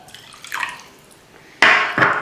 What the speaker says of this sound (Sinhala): ඊට පස්සේ මම එකතු කරගන්න මේ වතුර ටික